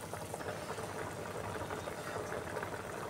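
Egg semiya boiling in a pot over a medium flame, a steady, faint bubbling simmer that carries on evenly throughout with no voices.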